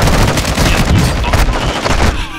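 Rapid, loud automatic gunfire from the Warzone 2 video game rattles in dense bursts close up, with brief pauses between volleys.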